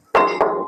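A bowl set down while measuring out tooth powder ingredients gives two quick, close clinks: a bright ringing knock and then a second lighter touch, both fading within a second.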